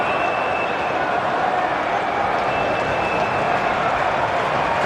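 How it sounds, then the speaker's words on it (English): A big stadium crowd at the MCG cricket ground roars in sustained applause, a dense, steady wash of clapping and cheering with no break. "Accompanied by a roar of applause."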